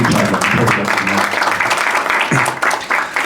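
An audience at a design education talk applauds to welcome a geography doctoral speaker to the stage, sustained clapping with a voice briefly audible over it.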